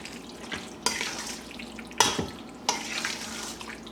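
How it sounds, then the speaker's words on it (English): A spoon stirs cream soup mixture into a vegetable casserole made from canned food, giving close, wet, scraping strokes with a few sharper clacks spaced about a second apart. "Now we're going to just stir it in to the casserole"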